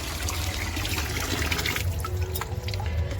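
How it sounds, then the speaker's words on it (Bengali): Water pours steadily onto potted plants, including tomato plants, making a continuous splashing and trickling sound nearby with no break. "যতটা সম্ভব আজকে জল দিয়ে দিই। জল পড়ছে"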